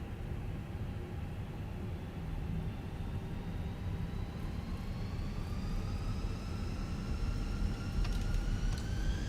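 Fenix A320 airliner engines spooling up for takeoff in a flight simulator, a steady jet rumble with whining tones rising steadily in pitch toward the end, fairly faint and without talk.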